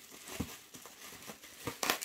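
Book mail package being unwrapped by hand, plastic or paper wrapping crinkling and tearing in short bursts, with a louder rip near the end.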